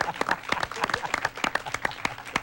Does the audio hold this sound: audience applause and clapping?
yes